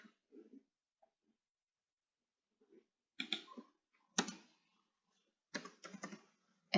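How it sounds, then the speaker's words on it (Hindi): Computer keyboard keys pressed in a quiet room, a few soft taps followed by sharper clustered clacks of shift and enter, close and distinct against silence. "शिफ्ट के साथ एंटर प्रेस करेंगे"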